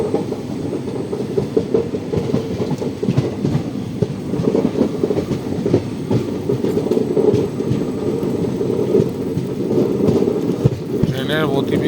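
A slow train crawling at about 20 to 25 km/h through the dense Dooars jungle, its steady low rumble and wagon rattle continuous and close throughout, with faint voices underneath.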